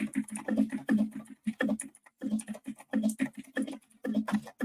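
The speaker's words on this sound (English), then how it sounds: "mechanical keyboard" Rapid clacking keystrokes on a mechanical keyboard come in dense bursts separated by brief pauses, close to the microphone and clearly heard on their own.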